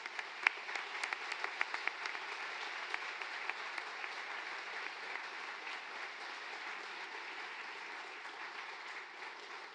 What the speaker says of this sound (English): Please join me in a round of applause for all of this evening's hard hat recipients